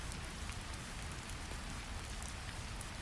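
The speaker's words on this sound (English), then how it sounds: "Rain still falls on ceramic roof tiles, but no one hears the peaceful sound." Steady rain falls on ceramic roof tiles, a dense, even patter of drops that holds constant throughout with no voices.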